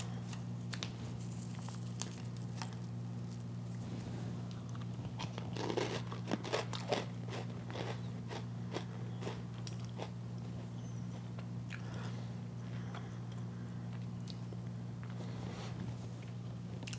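Close, crisp crunching and chewing of Trix cereal mixed with milk and yogurt. A cluster of crunches sits mid-way, with scattered bites on either side, all over a steady low background hum.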